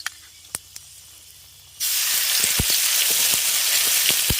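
Mustard paste dropped into hot oil with panch phoron and dried red chilli bursts into a loud, steady sizzle after a couple of faint taps, spattering and crackling continuously to the end.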